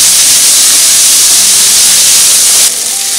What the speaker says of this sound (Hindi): प्याज को गोल्डन ब्राउन कर लेंगे